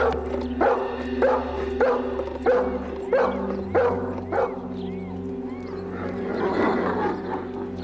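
A dog barks in a steady series of sharp, loud barks roughly every half second, then trails off into mixed background noise as people talk in a room.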